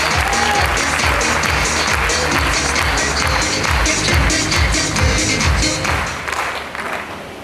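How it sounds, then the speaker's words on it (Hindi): Loud audience applause at a stage event, a thick, continuous wave of clapping with some rhythmic pulses, tapering off toward the end. "माइक्रोफोन दे रहा हूँ आपकी जोरदार तालियों के बीच"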